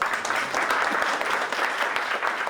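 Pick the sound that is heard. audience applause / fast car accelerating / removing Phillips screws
audience applause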